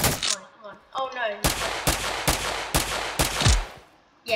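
Gunfire in the Roblox game Harbour Havoc rings out as a run of sharp, loud broadband shots in a rough rhythm, preceded by a short stretch of talk.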